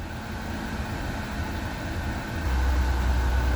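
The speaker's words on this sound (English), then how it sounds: "it's doing a little hunting right now from where the idle was" Steady low engine rumble of a six-cylinder car idling fast and hunting, with a broad noisy drone that swells slightly louder near the end, no voices.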